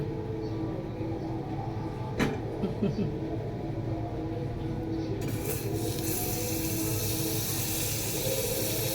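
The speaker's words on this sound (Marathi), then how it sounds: "आता फिरवून घेते मिक्सर मी." A kitchen mixer grinder runs continuously with a loud, steady motor whir and grinding rasp throughout, its pitch brightening partway through.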